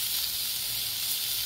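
Chopped onion softens in a pan for a rajma masala, giving a steady, even sizzling hiss with no talking.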